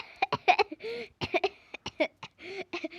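A string of short, sharp coughs in quick bursts, close and fairly loud, with brief pauses between fits.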